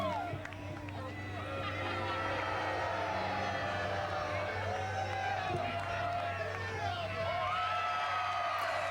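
Crowd at an indie wrestling show in Warren County, a dense babble of cheering, whoops and shouts that carries on steadily throughout, with a commentator's voice talking over it.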